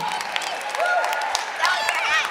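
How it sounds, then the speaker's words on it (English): An audience at a school music show claps, with sharp individual claps mixed into lively voices and chatter throughout. "So he needs a big round of applause."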